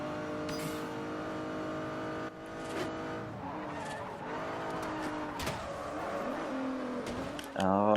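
An all-wheel-drive car in the Forza Horizon racing game drifts with a sustained engine drone and tire squeal, its pitch rising and falling as it slides through turns, with a player talking over it at times.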